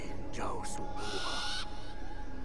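Owl in the video game Far Cry Primal, a clear, close call with a sweeping rise and fall followed by a sustained hoot, set against steady game ambience.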